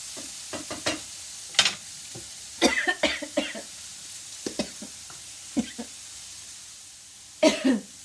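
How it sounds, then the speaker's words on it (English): Several rough coughs burst out in an uneven fit, a few close together, with quieter sizzling and stirring of red pepper and red onion in the pauses between them. "I just had a real coughing fit."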